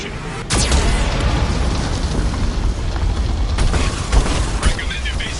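Cannon blasts from a Geth cannon in the Mass Effect video game: a sudden heavy boom, then dense rumbling explosions and scattered bursts, loud and close, with a voice talking faintly underneath.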